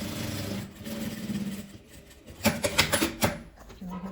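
Sewing machine topstitching a fabric seam on a patchwork pouch: a rapid, steady mechanical stitching rattle in short bursts, with a few sharper clicks and handling noises between runs, fairly quiet and close.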